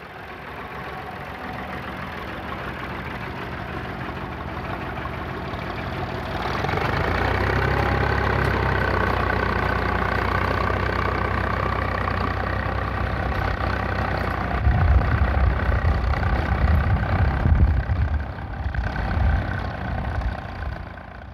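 A small 1960s Volvo BM T400 Buster tractor engine idles steadily nearby, rumbling lower and louder partway through, with a rougher, throbbing low chug toward the end.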